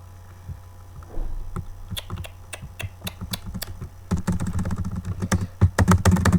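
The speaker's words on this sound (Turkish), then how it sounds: "Şu an tuşlar kırıyor gibi ses çıkıyor gelebilir çünkü klavye mouse'a şey bilgisayara yakın olduğundan dolayı" Computer keyboard keys typed close to the microphone during a Minecraft Skyblock session, sharp clicks in irregular bursts that grow denser and faster toward the end over a low steady hum.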